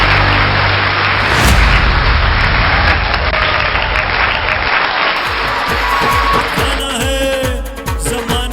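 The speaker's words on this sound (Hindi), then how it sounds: "Please welcome on the stage with a big round of applause." Loud, dense applause from an audience greeting achievers onstage at a celebration event fills most of the clip, then fades as rhythmic music with a steady beat takes over near the end.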